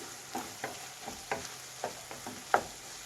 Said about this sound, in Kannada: ಒಂದು 4 ಹಸಿರು ಮೆಣಸಿನ್ಕಾಯಿ ಹಾಕ್ತಾಯಿದ್ದೀನಿ ಕಟ್ ಮಾಡಿಬಿಟ್ಟು. ಇದನ್ನು ಮಿಕ್ಸ್ ಮಾಡಿ